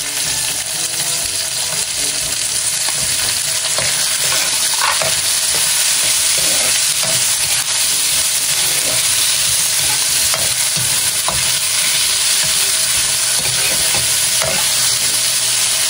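Garlic, ginger, onion and tomatoes frying in a pan with squid and coconut milk to follow, a loud continuous sizzle with occasional stirring scrapes, close and steady throughout, no talking.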